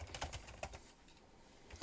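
Rapid keystrokes on a computer keyboard while a command for a particle plugin is entered, close and fairly quiet, in uneven bursts with brief pauses and no talking.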